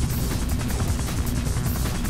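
Steady, droning helicopter rotor noise echoing inside a building in Devil May Cry 2, a continuous dense rumble with faint rhythmic chopping and no breaks.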